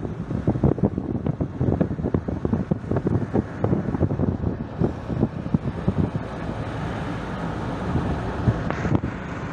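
Steady wind buffeting the microphone outdoors in a village, a continuous rough rumble with gusty low thumps throughout, no voices.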